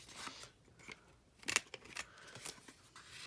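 A Memory Keepers corner rounder punch snips the corners of a craft journal card, giving one sharp, bright clack midway with a few lighter clicks and paper rustles around it, close up and quiet, with no talking.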